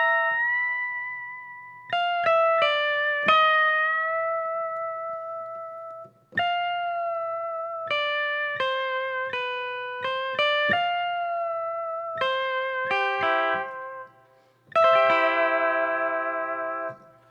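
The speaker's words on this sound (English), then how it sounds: "I really like the lap steel." A lap steel guitar sample from the ProjectSam SWING! library plays alone, with clear sustained notes and slides. It comes in a series of phrases, some with bright chords and gentle decays.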